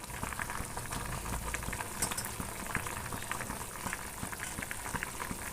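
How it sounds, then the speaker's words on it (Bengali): A pot of water with potatoes boils hard for a Bengali fish curry, giving a dense, steady bubbling and popping that stays close and fairly loud throughout, with no one talking. "দেখেছেন বন্ধুগণ, টকবক করে যখনই ফুটে গিয়েছে"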